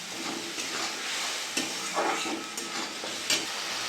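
A spice paste (masala) for a vegetarian besan dish is stir-fried in a pan. Close, steady sizzling is broken by scraping strokes of the spatula, with no voices.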